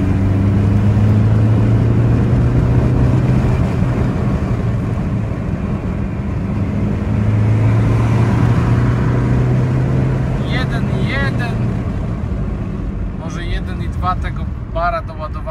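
An Alfa Romeo 156 1.9 JTD diesel pulls hard under boost, its engine a loud, continuous drone with rising tones as it climbs through the revs, heard from inside the car.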